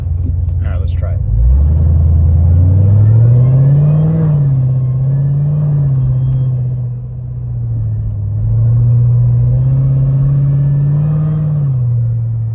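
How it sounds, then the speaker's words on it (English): A Corvette C7 Z06 fitted with aftermarket exhaust parts accelerating from a traffic light, its deep engine note rising and falling through gear changes, steady and close, with a brief voice early on. "All right, so definitely I hear the exhaust."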